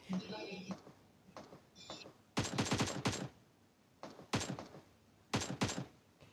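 Gunfire from a shooting video game as the player takes down bots: several bursts of rapid, sharp shots in quick clusters, loud and close, separated by quieter gaps with some faint background sound.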